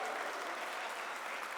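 An audience at the World Blockchain Summit claps steadily and densely throughout, a continuous wash of applause with no pauses.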